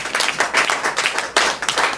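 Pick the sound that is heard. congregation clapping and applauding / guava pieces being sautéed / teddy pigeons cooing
congregation clapping and applauding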